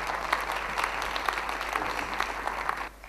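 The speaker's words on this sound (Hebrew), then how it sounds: "תודה רבה לכפיים" A stage audience claps steadily and fairly loudly at a live show, a dense wash of applause that carries on evenly before dropping away at the very end.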